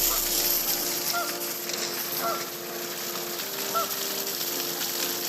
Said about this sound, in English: She's worried about them damn geese over there